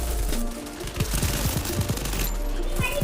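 Gunfire in the Free Fire video game: several rapid shots in quick succession over a continuous low background hum, fairly loud and close, with no voice audible.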